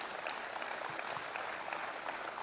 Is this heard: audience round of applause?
yes